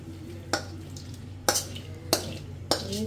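Meat being stirred into pulao rice for tehari made with broken chinigura rice, four separate scraping stirs against the pot over a low steady hum, close and moderately loud.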